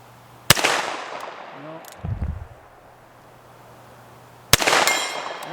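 Two sharp shots from a Smith & Wesson Model 10 .38 Special revolver at a 10-inch steel plate, each crack followed by a ringing clang, with a soft thump between them in an outdoor setting.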